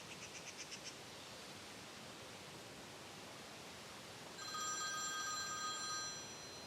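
A telephone rings in a quiet room, a short burst of trilling bell rings at first, then a longer electronic ringing tone later, faint under steady background hiss.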